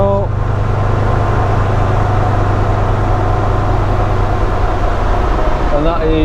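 A Land Rover Defender Td5 held at a steady 3000 RPM on a dyno, giving a loud, even drone with a constant low rumble that eases slightly at the end.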